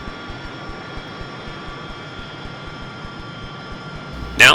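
AV-8B Harrier jet engine idling during a DCS flight simulator cold start, a steady droning whine with faint rhythmic ticking, ending in a sudden loud burst.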